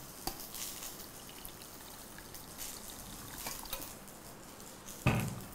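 Water is poured into a cooking pot of kootu saaru kulambu with drumsticks and tamarind, a soft, quiet trickle with faint splashes, ending in a brief, louder clink of the pot.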